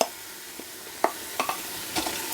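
Frozen carrots, onions and celery hit the hot surface of a Ninja 15-in-1 cooker, giving a soft hiss broken by a few short stirring knocks and scrapes, with no voices.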